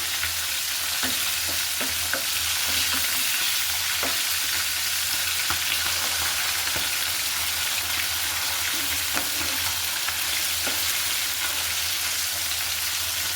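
Stinging catfish (shing fish) lightly frying in oil, an even crackling sizzle with soft stirring clicks scattered throughout, close and steady, with no voices.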